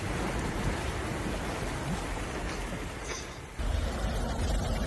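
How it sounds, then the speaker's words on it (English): Heavy hail and rain pour down in Puebla, Mexico, a dense, continuous roar of pelting drops that swells louder near the end, with no voices heard. "heavy rain and heavy hail fell in the capital's metropolitan area"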